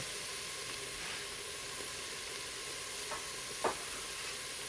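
Cilantro being stirred into a pot of cooking sprouted-bean chili, a soft steady sizzle and hiss from the pot with a couple of faint scraping clicks of the spoon, no talking.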